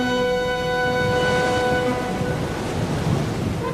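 A storm at sea in an animated Bible cartoon about Jonah, with a constant loud roar of wind and crashing water underlying sustained tonal music, and no speech.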